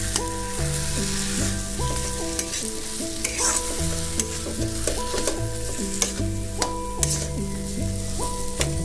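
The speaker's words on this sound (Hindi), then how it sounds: "अब थोड़ा भून लेंगे ताकि आलू का जो कच्चापन है वो चला जाए।" Potato filling for bread chop sizzles steadily in a pan while being stirred with repeated scraping strokes, with music playing along.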